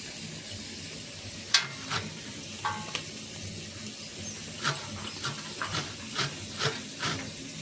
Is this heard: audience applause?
no